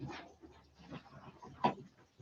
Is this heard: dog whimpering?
yes